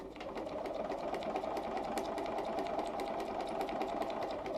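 A Bernina 335 sewing machine stitches steadily along a marked line on fabric, its motor humming with a fast, even needle rhythm that stays close and constant throughout, with no talking.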